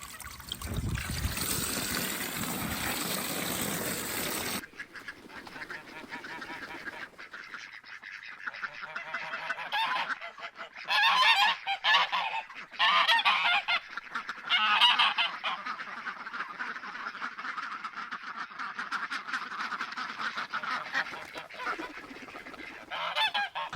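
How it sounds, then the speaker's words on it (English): Farm geese honking repeatedly in loud, agitated bursts, starting with a brief noisy burst and then a steady run of overlapping honks close by, with no talk. "These geese sound pissed."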